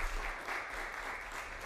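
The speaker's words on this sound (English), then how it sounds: "Give it up for Larry" An audience at a high school poetry recitation competition claps steadily, a dense, even wash of applause heard from within the hall.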